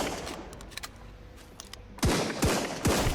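Gunfire in the survival game Sunkenland: scattered distant shots early on, then three or four loud, sharp bursts close together near the end, with no talk.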